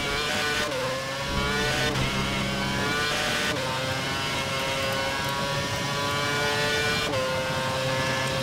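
Ferrari Formula 1 cars in F1 2011 scream at high revs while racing side by side; the whining engines pass through several upshifts, loud and continuous with no voices.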